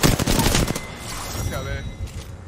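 Automatic weapon fire during an Apex Legends match, a rapid close burst of shots at the start that cuts off into quieter game ambience with faint tonal effects.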